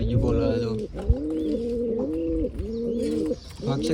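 Pigeons in a home pigeon setup coo repeatedly at close range, with rounded, rising-and-falling calls following one another steadily, and a faint voice now and then.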